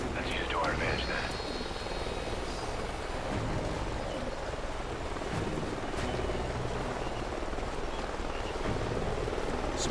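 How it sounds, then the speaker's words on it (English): A helicopter flies overhead in the video game Call of Duty Ghosts, its rotor a continuous, loud, dense wash of noise that holds steady from start to finish. "Sounds like a chopper's up ahead of us."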